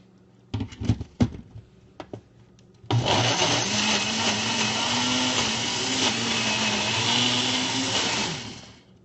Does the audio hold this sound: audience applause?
no